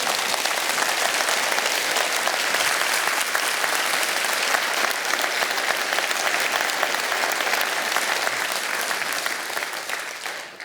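Audience applause fills the hall at the 2024 Wesfarmers Harry Perkins Oration, a dense, steady roar of many hands clapping close and loud that holds for about ten seconds before starting to fade.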